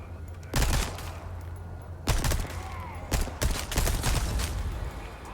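Gunfire in the video game Resident Evil 4 Remake, with several loud sharp shots in separate bursts, one quick pair close together, standing over game background sound.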